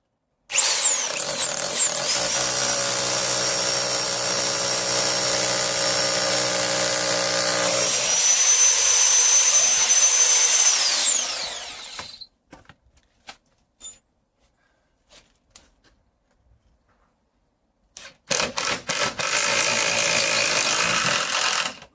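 Loud whining of a power drill boring into a brick wall, running steadily for several seconds, then quiet with scattered knocks before the drill whirs up again.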